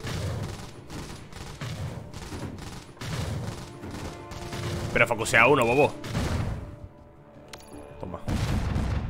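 Rocket units in the strategy game Iron Marines fire bursts of explosive booms and crackling blasts, loud and repeated, while a player talks over the action.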